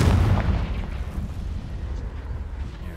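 A Confringo fire spell explosion in the Hogwarts Legacy video game, a heavy booming blast at the start that fades into a low rumbling roar.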